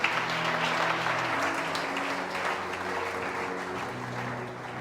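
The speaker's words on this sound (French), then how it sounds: "Est-ce qu'on peut acclamer pour eux?" A church congregation applauds with continuous, even clapping from a crowd that holds steady for several seconds, moderately loud with a faint musical hum beneath.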